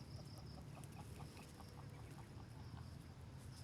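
Chickens cluck in a quick, repeated string of short calls over a steady low rumble of background noise, moderately close and unbroken throughout.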